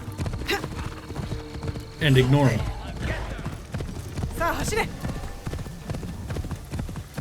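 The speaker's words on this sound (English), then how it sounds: "So I'm gonna call my horse" Horse hooves clip-clop in a steady rhythm in Assassin's Creed Shadows, broken by a loud whinny, while someone speaks briefly over the game sounds.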